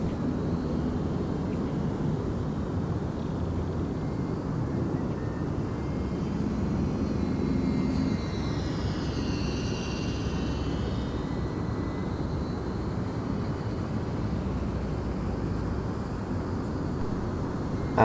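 E-Flite UMX Twin Otter twin-engine RC model airplane flying, a steady broad whir that holds for the whole stretch with a faint higher tone passing midway, heard from a distance in open air.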